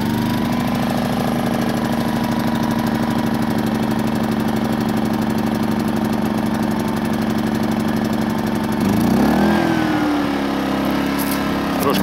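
A small petrol engine on a pump station idles while it warms up after starting, a steady close throbbing hum that holds even, then shifts and wavers briefly near the end as the load or throttle changes.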